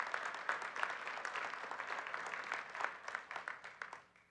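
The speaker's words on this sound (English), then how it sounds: "Let's give them a round of applause." Faint, distant-sounding applause from a conference audience honoring the event's volunteers, a steady patter of many hands that gradually thins and fades out at the end.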